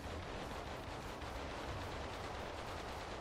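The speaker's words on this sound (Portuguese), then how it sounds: "eu tô escutando barulho de tiro" Dense, continuous gunfire in the video game Primal Carnage: Extinction crackles steadily throughout, a busy mix of rapid shots blending into one another at moderate distance with no talking.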